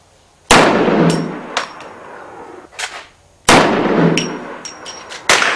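Gunshots striking a steel target: two sharp loud reports, each followed by a ringing metallic clang, with smaller impacts and pings between them, close and with no talking.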